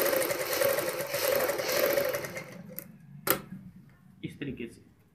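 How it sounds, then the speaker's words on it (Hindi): A sewing machine stitches a salwar bottom with a fast, steady whirring rattle for a couple of seconds, then stops, leaving a few clicks and handling knocks while someone talks. "यहाँ पे आपको बिल्कुल इस तरीके से सिलाई लगानी है"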